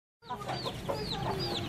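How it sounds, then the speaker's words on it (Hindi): Chickens on a farm, a hen and a rooster together, cluck and squawk in a busy, continuous run of close calls that begins abruptly and carries on without pause. "आप देख सकते हैं कि मुर्गी मुर्गे के पर नोच रही है"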